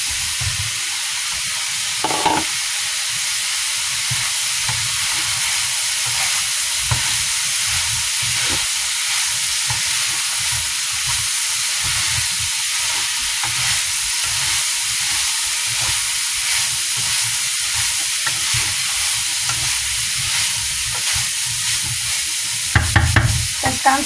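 Leek and minced meat sizzle and fry steadily in a pan, with occasional scraping stirs, close and continuous throughout with no talk.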